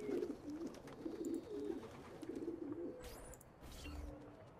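Pigeons in a coop in Assassin's Creed II: soft, repeated throaty coos in short phrases over a low ambient bed, fairly faint and near, with a brief flutter-like burst late on and no speech.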